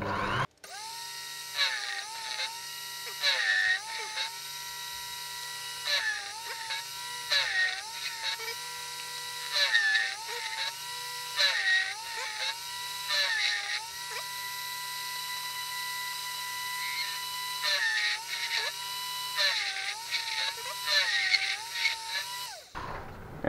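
A Unimat SL1000 small machine cuts T-slot nuts in fine 0.05 mm passes, giving a steady high-pitched whine with rhythmic dips and surges as each cut engages, close and continuous for the full length with no talking.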